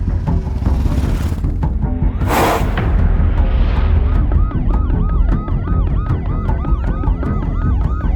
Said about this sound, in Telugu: విఘ్నేష్, ముందు అంబులెన్స్ ని త్వరగా హాస్పిటల్కి వెళ్ళాలి.